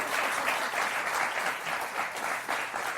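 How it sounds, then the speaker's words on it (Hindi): An audience claps steadily at a speech event, with dense, even applause filling the whole stretch and no other sounds over it. "ताली तो बजा दो, इतनी अच्छी बात बोली है."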